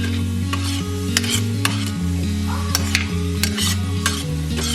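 Shrimp stirred around a hot frying pan for Mexican tacos, crisp spatula scrapes and clicks against the pan over a constant sizzle, with a steady low hum running underneath throughout.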